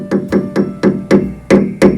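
A special hammer taps a Fazioli piano's duplex scale seven times in a steady rhythm: close, crisp metallic strikes, each leaving a short ringing tail, with no talking.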